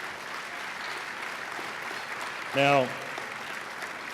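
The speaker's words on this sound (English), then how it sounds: "let's give them a round of applause too" A gala audience at an award dinner applauds the table sponsors with a sustained, moderately distant round of clapping, and someone briefly says a word over it.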